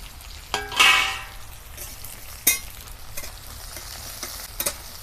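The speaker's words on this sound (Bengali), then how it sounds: "পেঁয়াজটাকে আমি খুব লাল করে ভাজবো না, হালকা করে ভেজে নেব।" Chopped onion, green chili, ginger and garlic fry in hot oil with nigella seeds, a low continuous sizzle broken by a few sharp stirring scrapes and clinks of a spoon against the pan.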